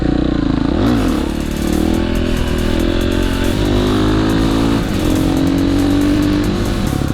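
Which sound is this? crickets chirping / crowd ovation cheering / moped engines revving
moped engines revving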